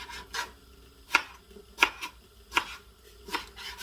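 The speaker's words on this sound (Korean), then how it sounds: "그냥 썰어서 담아요" A knife slices pickled radish for Japanese-style danmuji, making about five crisp, close cuts spaced evenly roughly three-quarters of a second apart. No one speaks.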